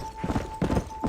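A horse's hooves clip-clop in Red Dead Redemption, ridden near the town of Blackwater, in a short run of close, even hoofbeats over a steady game background.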